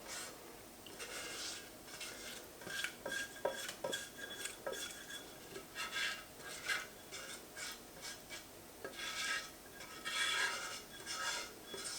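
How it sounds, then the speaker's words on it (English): A spatula scrapes brownie mix from the edges and bottom of a pan in repeated short rasping strokes with occasional light clinks, faint but close, no voices. "Use our spatula to scrape down the edges and the bottom of the pan"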